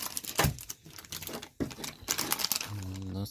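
Package holding replacement Nintendo Wii U joysticks sliced open with crinkling plastic and tearing bursts, a few sharp rustles close up, ending in a short rattling buzz, with a voice talking briefly.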